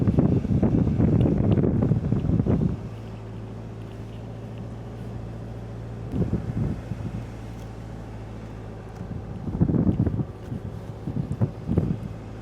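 A car driven along beach sand, with loud wind buffeting the microphone in bursts at the start and again near the end, between which a steady low engine hum carries on.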